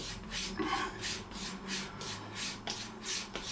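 A Dorko 14 Swedish steel straight razor is drawn back and forth along a strop in repeated, even rasping strokes, soft and close, with no one talking.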